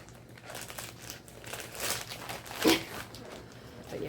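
Crinkling plastic packaging and rough scissor snipping close up, steady and scratchy, with a sharper crackle near the end; no voices.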